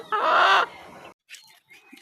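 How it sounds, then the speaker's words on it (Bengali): A farm rooster gives one loud, close squawking call, followed by a few softer, scattered clucks. "সেটা হচ্ছে আমাদের খামারের ফার্মি মোরগ"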